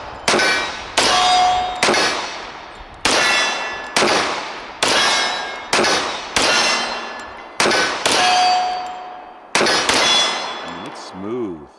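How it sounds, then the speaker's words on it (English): Wilson Combat 1911 pistol shots striking steel targets about 20 yards away, roughly eleven sharp gunshots each followed by a ringing metallic clang, evenly spaced and loud, with a brief ringing tail at the end. "Shooting at the smaller silver target, about 20 yards away."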